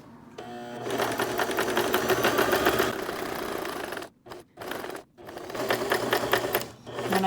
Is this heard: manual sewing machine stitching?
yes